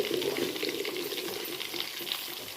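Chicken kebab pieces fry in oil in a pan over medium heat, giving a steady close crackling sizzle with faint popping and no break.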